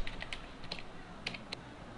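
A localhost address is typed on a computer keyboard, producing quiet, close, uneven key clicks in two short bursts with a pause between them.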